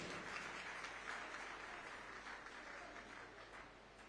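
A crowd at a BRS constituency general body meeting applauds with dense, sustained clapping that fills the hall evenly from start to finish, loud and continuous with no talk over it.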